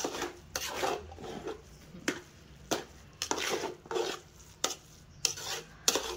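A spoon scraping rhythmically through a cardamom-flavoured sweet mixture in a pan with the gas off, about a dozen close, raspy strokes with short pauses between them and no sizzle.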